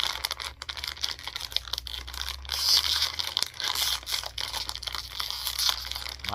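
Crinkly plastic crackling and tearing in bursts, close up, with stretches of rustling as packaging is pulled and worked open.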